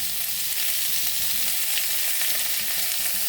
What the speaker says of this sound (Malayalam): ഇതൊന്ന് വഴറ്റി കൊടുക്കാം.